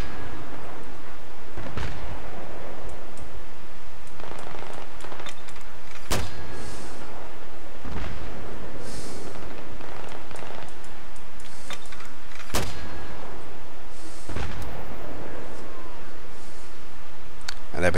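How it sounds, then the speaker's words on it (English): An M224 mortar fired repeatedly in Battlefield 3, with sharp booming launches every few seconds over constant game background noise; a voice talks over parts of it. "I'm going to be firing my mortars"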